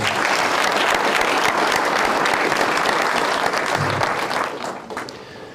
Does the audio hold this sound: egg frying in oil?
no